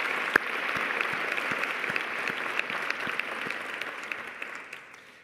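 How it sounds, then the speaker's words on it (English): A room full of people clapping steadily at a White House event, dense and sustained, with a few sharper claps standing out before the applause slowly thins and fades. "give her another round of applause for what she has done"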